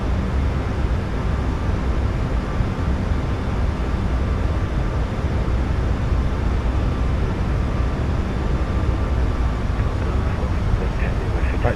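Boeing 737 MAX 8 engines in the iFly flight simulator game, a loud, dense, steady roar of climb power filling the cockpit without letup, with a voice talking over it.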